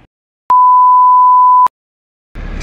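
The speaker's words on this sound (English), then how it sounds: "I'm gonna beep it out and then I'm gonna put your address over it." A loud, pure electronic censor tone runs steadily for just over a second, starting and ending abruptly, followed by a short burst of noise.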